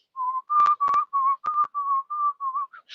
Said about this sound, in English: You know how they be whistling when they sweeping.